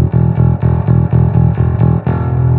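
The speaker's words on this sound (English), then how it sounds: "We'll slowly bring in the distortion so you see what it sounds like." A bass guitar run through an EBS Billy Sheehan signature drive pedal, the distortion blended in under a clean bass tone, plays a steady rhythmic riff of repeated gritty notes, loud and close, with no talking.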